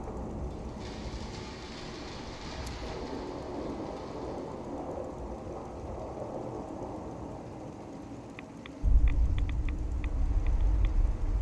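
Steady rain hiss with a low rumbling undertone during a thunderstorm in Fallout 4, continuous and even, swelling to a heavier roar near the end, with faint clicking tones.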